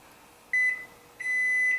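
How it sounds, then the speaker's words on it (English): An electronic kitchen timer beeps twice, a short bright tone followed by a longer one after a brief gap, clear and close in a quiet room. "the timer is going off"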